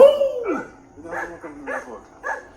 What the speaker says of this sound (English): the dogs turn out to be too small to do much of anything